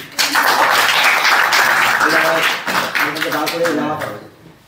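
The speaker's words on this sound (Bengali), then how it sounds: "একটু আঙ্কেলের জন্য সবাই হাততালি দিই" A church congregation applauds a guest at a prayer gathering in Gouripur village, Howrah, with a burst of dense, loud clapping that gradually thins out and fades toward the end.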